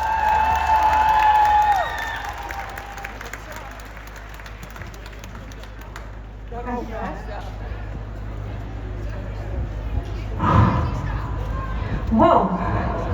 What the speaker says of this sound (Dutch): Een warm applaus voor Clara Zetkin